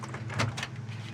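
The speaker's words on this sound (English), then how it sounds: "Doors open and close, excellent." Doors of a 1955 Chevrolet Bel Air open and close, giving a couple of soft mechanical clunks and latch sounds close by over a steady low hum, with no talking.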